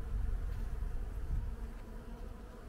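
A dense, steady buzzing of many honey bees at a hive during a spring inspection, close and continuous, with a low droning hum and no voices.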